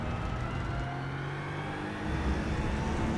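Aston Martin Vantage GT3 EVO race car accelerating in the iRacing game at Interlagos, a continuous loud engine drone rising in pitch, with the power coming on harder partway through.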